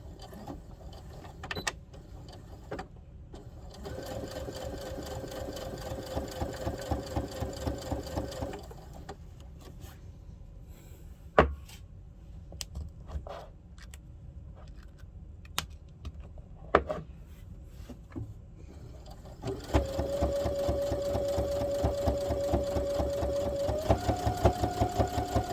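A sewing machine stitches along the edge of a harvest apron in two steady runs of motor whir, with quiet handling and clicks in the pause between them.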